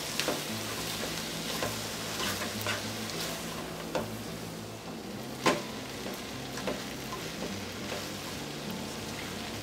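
Boiled noodles stir-fried in a hot pan for Chinese Hakka noodles, a steady close sizzle with scattered scraping and tossing clatter from stirring, no talking.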